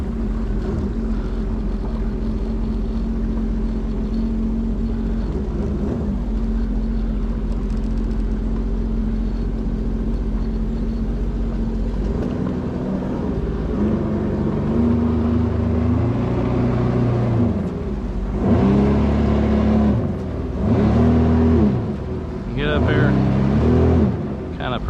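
A jet ski engine fires up at a boat launch and idles steadily, then revs in several short surges as it shifts into reverse and turns around, with wind noise and occasional talk nearby.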